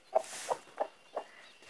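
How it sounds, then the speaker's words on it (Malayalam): A hen clucks four times in short, evenly spaced calls, close and fairly quiet, with no other sounds. "അമ്മ തള്ളയാണിത്, അതിൻ്റെ കൂടെ കോഴിക്കുഞ്ഞും."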